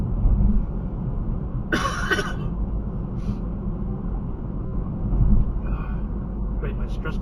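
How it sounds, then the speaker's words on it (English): A nervous stress cough bursts out once in a quiet room, a short rough hack over a low steady background hum, followed by faint small sounds. "Great, my stress cough is back again."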